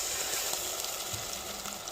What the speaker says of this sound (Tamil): வெங்காயம் பச்சை மிளகாய் இஞ்சி பேஸ்ட் தக்காளிலாம் வதங்கி வந்துருச்சு.